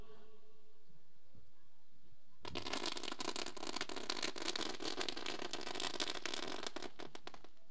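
Firecrackers burst in a rapid, dense crackling string at a village cricket tournament welcome, starting abruptly after a quiet lead-in and rattling on continuously for about five seconds, close and sharp.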